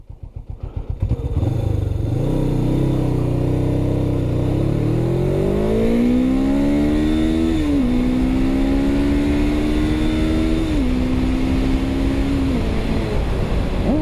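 A Suzuki GS500 motorcycle engine idles and then revs up hard, the pitch climbing steadily and holding high with a couple of brief dips, loud and close throughout, with no voices.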